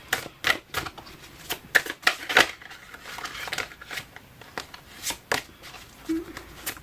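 Oracle cards are shuffled by hand up close in quick, crisp riffling bursts with short pauses between them, and no talk is heard.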